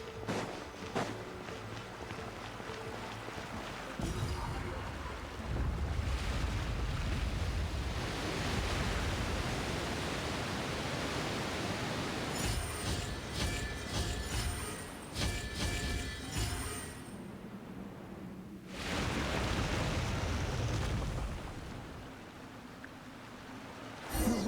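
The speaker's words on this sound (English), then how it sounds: "The water's flowed into the groove, and now the statues have lit up." Rushing water flowing into a stone groove in Genshin Impact, a broad steady wash like surf that swells and fades, with brief pauses and faint chiming tones.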